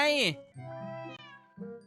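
A single high, bright cartoon meow comes from the mobile game Cat are Cute, followed by someone talking over the game.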